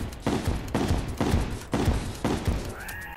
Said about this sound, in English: Super missiles with a version 2 missile launcher.